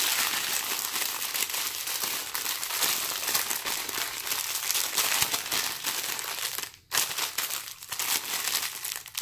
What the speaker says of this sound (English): Okay, crinkling.